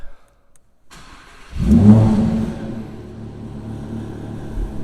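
A 2019 Audi R8 5.2 V10 Performance Cabriolet starts up with a short starter whir, then its engine fires into a loud, rising flare before settling into a steady, close rumbling idle.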